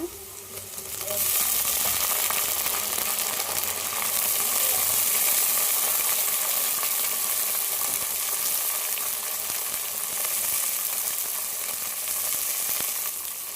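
Brinjal and tomato dropped into hot oil for a brinjal curry, a loud hiss rising suddenly after a second and holding as a steady close sizzle with faint stirring.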